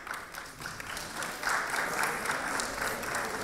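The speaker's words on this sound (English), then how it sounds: "Please hold your applause until the end." Applause from a ceremony audience in a large hall, steady and fairly loud. It swells after the first moments and keeps up as a dense, continuous wash of clapping, with a faint murmur of voices underneath.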